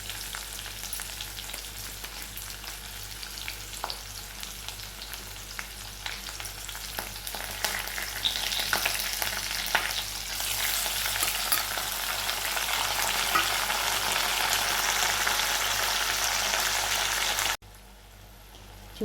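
Onions and tomatoes sizzle and fry steadily in a pan, close and continuous, with occasional stirring scrapes. The frying grows louder partway through.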